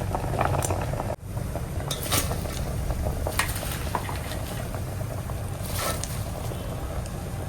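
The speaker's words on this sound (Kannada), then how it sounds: "ನೋಡಿ ಬೇಳೆ ಬೇಯ್ತಾ ಇದೆ, ಬೆಂದಿದೆ ಒಂಚೂರು ಚೆನ್ನಾಗಿ" Lentils (dal) boiling in a pot for bassaru make a steady, dense bubbling and rumbling wash, with a few brief clinks of utensils over the simmer; no voices.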